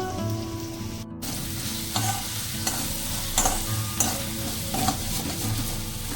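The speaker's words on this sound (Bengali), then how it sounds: "নুন হলুদটা ভালোভাবে মিশিয়ে নিয়েছি।" Spices with salt and turmeric are stirred in a hot pan for coriander chicken, producing a loud continuous sizzle broken by regular scraping strokes of the spoon.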